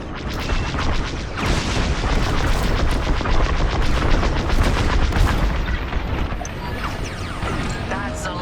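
Blaster fire in Star Wars Squadrons rattles out in rapid, dense bursts over rumbling explosions, loud and nearly continuous, then eases toward the end.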